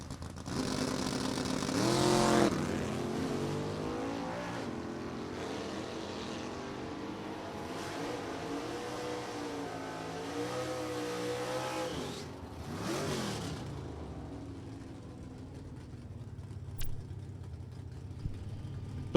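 Drag racing at an NHRA event, including a dragster, heard as distant roaring engines that rise and sweep by in several bursts, with one louder surge early on and a fainter pass later, all fairly far off.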